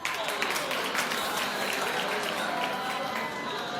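Studio audience clapping on a daytime TV talk show, a continuous wash of applause at even loudness throughout, fairly close and full.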